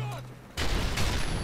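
Gunfire in Call of Duty: Modern Warfare 3 breaks out halfway through as a loud, dense burst of rapid shots over the game's background hum.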